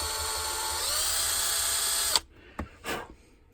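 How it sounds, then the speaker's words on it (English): A high-pitched power drill whines steadily for about two seconds as the bit drills into a 1966 Pontiac GTO wheel, then cuts off, followed by a couple of brief short bursts as the bit spins up again. "I take my drill bit"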